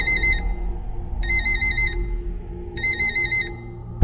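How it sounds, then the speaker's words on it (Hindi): A phone ringtone rings three times in regular bursts of bright electronic tones separated by short gaps, clear and close, ending with a sudden thump. "फोन बजा"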